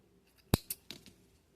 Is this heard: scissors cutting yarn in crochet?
yes